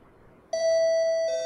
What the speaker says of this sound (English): I pressed the buzzer on the side and heard the sound of chimes from inside.